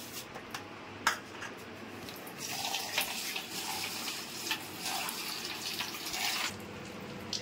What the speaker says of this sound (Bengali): তো আমি চিরাটাকে এখন ধুয়ে ভালো করে ভেজাবো